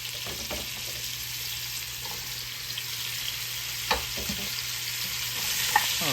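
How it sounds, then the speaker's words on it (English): Carrots, celery and onions sautéing in a pot for smothered beef, an even, close sizzle running throughout with a few faint stirring knocks and no talking. "We're going to put our carrots, celery, onions."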